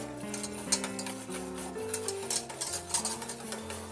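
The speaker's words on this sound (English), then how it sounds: "we're just going to whisk until it is nice and thick" A whisk stirs a no-yeast plant-based pizza crust mixture in a pan over medium-high heat, a busy rhythmic scraping and tapping against metal with a faint sizzle beneath and background music, close, no voices.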